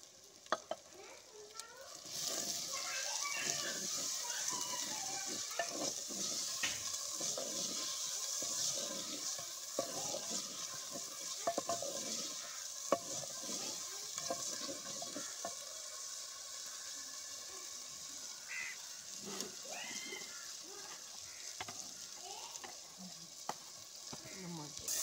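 Tomatoes added to a hot pan for a potato dish sizzle steadily, with repeated scraping stirs of a spoon running throughout at close range and no voices.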